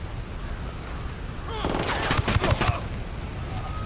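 Gunfire in the video game Ghost Recon Wildlands, a brief burst of rapid shots about a second long that rises out of a quiet ambient background and then fades.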